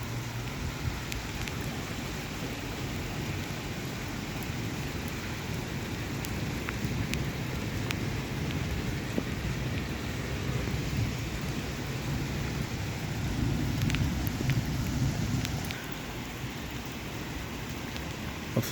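Steady heavy rain with rolling thunder during a storm in Riyadh, a dense continuous downpour with a low rumble swelling beneath it, and no voices.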